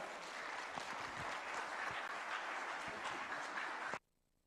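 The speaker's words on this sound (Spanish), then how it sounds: "Con fuertes aplausos recibamos al grupo Alba." A church audience claps loudly and steadily to welcome a music group onstage at an evening Bible seminar, a dense, sustained round of applause that stops abruptly near the end, leaving near silence.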